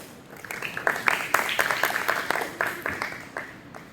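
A school audience claps after a Hindi poem recitation at an inter-school Hindi Diwas competition, many hands giving a dense, even patter of applause that swells and fades over a few seconds, with some voices underneath.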